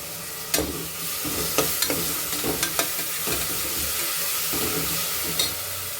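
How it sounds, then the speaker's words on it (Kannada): Kasuri methi fries in hot oil for a Mallika biryani, a steady close sizzle broken by several sharp scrapes and clinks of a spoon stirring the pan, with no voices. "ಇದು ಕೂಡ ಚೆನ್ನಾಗಿ ಆಯಿಲಲ್ಲಿ ಫ್ರೈ ಆಗಬೇಕು."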